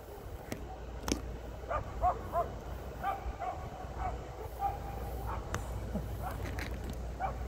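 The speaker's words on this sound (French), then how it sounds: "il y a des trucs qui n'arrêtent pas de japper." Dogs yap in short, scattered barks somewhere in the background, over a low steady hum with occasional clicks.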